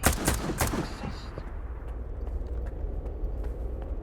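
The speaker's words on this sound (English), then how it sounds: "Loud gunfire." Loud gunfire in the video game Stalker 2: a rapid cluster of sharp shots in the first second, then tapering into lingering rumbling ambience.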